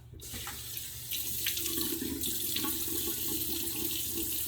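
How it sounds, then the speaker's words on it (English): Cold water runs steadily from a bathroom sink tap during a wet shave rinse, a continuous close splashing stream that starts after a brief quiet moment and holds alone to the end. "I'm gonna do a quick cold water rinse and I'll be right back for post shave"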